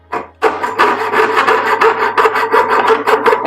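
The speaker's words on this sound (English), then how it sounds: "I'm just sawing away without worrying about the throat of the saw" Quick rhythmic strokes of a handsaw cutting through wood, close and loud, a steady back-and-forth rasp.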